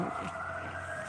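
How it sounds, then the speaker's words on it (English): Emergency sirens wail steadily outside during a downpour, a continuous sustained tone heard from a distance indoors with no voices. "I do apologize for the sirens"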